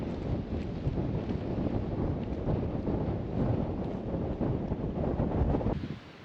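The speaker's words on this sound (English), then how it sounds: "It's blowing a gale" A strong gale blasting across a hummocky moor in Assynt, Scotland, roars and buffets a microphone in loud, continuous gusty rumbles, easing slightly at the very end, with no talk.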